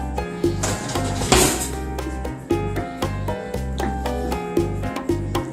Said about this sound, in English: we're just gonna mix it together